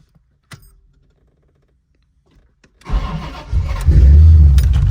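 A Chevrolet C4 Corvette's engine cranks briefly after a faint click, then catches and settles into a loud, rumbling idle close by.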